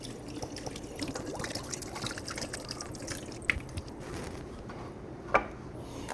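Water drains in quiet drips and trickles out of a small whiskey aging barrel being emptied during prep, with a couple of sharper splashes near the end.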